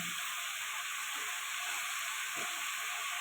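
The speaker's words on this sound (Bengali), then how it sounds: "এবার ভালো করে এটা কষাতে থাকবো পালং শাকটা ভেজে যায়" Spinach stir-frying in a pan, a steady bright hiss and sizzle of leaves cooking, constant and close with no voices.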